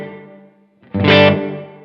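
A guitar note rings through a Strymon Iridium set to large room ambience, rising after a brief gap into a bright, full chord that blooms and then slowly decays into a roomy tail, alone and fairly loud.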